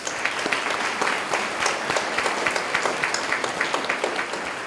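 An audience at a fifth grade completion ceremony claps loudly and steadily. Dense applause fills the whole stretch, with no voices standing out.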